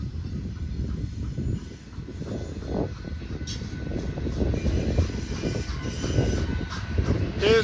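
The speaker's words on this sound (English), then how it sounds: "Here's the mid-train engine to create more power, creates the train even longer." A long freight train rolls steadily past with a mid-train locomotive engine adding power, continuous rumbling wagons and wheel noise with a brief high wheel squeal near the end, heard close up on a walk.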